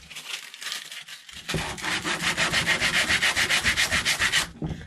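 Sandpaper rubs over the corners of a homemade slingshot band-tying jig: a brief lighter scrape, then a run of quick, even back-and-forth sanding strokes, loud and close, with no voices.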